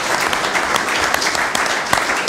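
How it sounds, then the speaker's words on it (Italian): A room applauds a returning football coach at an Italian club presentation, dense continuous clapping held close and loud for a couple of seconds with no talk. "Un applauso a Piero Campisi,"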